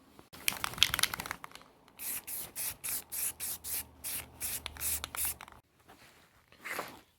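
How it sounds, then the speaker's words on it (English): Triacetate priming solution from an aerosol can sprayed onto a custom gauge pod in a series of about nine short, evenly spaced hissing bursts, close and fairly loud, with softer rubbing and handling noises before and after. "Next thing we're gonna do is hit it with this triacetate priming solution from Nickeltown Customs."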